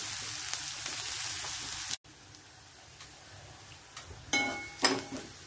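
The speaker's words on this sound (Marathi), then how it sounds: "कांदा चांगला परतून घ्यायचा। 1 ते 2 मिनिटं साधारण आपण हा कांदा परतून घेऊ।" Chopped onion sautés in a hot pan, giving a steady soft sizzle with a few louder scraping stirs toward the end, close but quiet.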